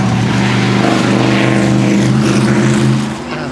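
A vintage Alfa Romeo straight-eight racing car with a boat-tail body, passing at Goodwood Festival of Speed 2022 as a loud, steady, rich engine drone that dips slightly near the end.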